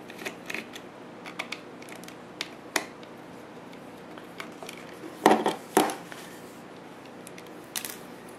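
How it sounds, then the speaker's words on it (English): Small metal screws being backed out of the side panel of a Midland action camera, heard as faint sparse clicks and ticks with a couple of louder handling clatters partway through. "And it's got these little screws in here we're going to take out as well"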